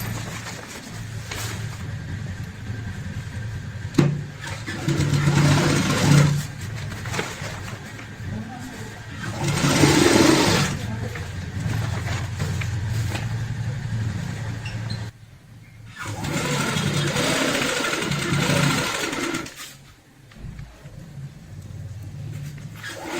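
A sewing machine runs in several bursts of steady whirring as it stitches over an existing seam on a velvet travel bag, with short pauses between runs and a voice talking over part of it.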